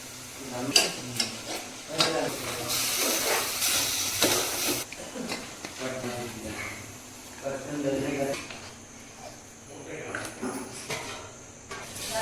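Spices for a Malvani village chicken gravy hit hot oil in a loud hissing sizzle that bursts early, then settles into a steamy bubbling while people talk over it.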